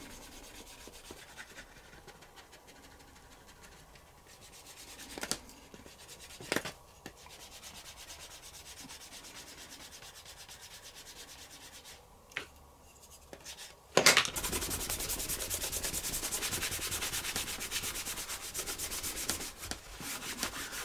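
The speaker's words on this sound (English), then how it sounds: "Just wiping the excess off and give it a smooth." Cloth wiping excess stain off a leather phone case, soft intermittent rubbing strokes that are faint and close, with a few small knocks and a louder scuffing stretch near the end.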